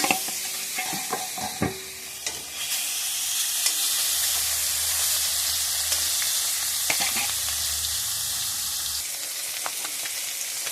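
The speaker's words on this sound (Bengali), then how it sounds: "রুই মাছ ভাজতেছি" Rohu fish frying in hot oil, with a loud, dense, continuous sizzle close by and a few clattering stirs early on, with no speech.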